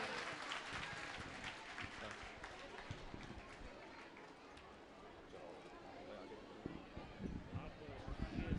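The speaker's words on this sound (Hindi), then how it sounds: "गोपाल भाई जोरदार तालियां।" Applause at a community Bhadavi Bij function, a dense, steady wash of many hands clapping that runs throughout, with crowd murmur and scattered voices mixed in.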